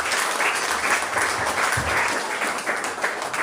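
A church congregation applauding a preacher, sustained crowd clapping in a steady wash, fairly loud and continuous, with faint voices mixed in underneath.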